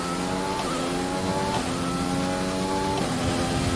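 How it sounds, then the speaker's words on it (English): An F1 2020 race car in the video game howls at steady high revs with stacked engine harmonics that dip and climb as it shifts, a faint tyre squeal from the front left wheel locking up under braking running beneath, loud and continuous. "That front left just wants to continuously lock up on me."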